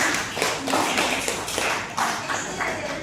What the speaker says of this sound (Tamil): நல்லா ஒரு கைத்தட்டல் கொடுத்தலாம்.